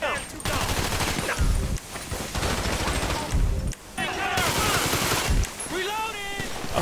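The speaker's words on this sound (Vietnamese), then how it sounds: "Súng tiểu liên." Submachine gun fire in GTA 5, rapid bursts of automatic shots with short gaps between them, loud and close, mixed with game sound effects and brief bits of voices.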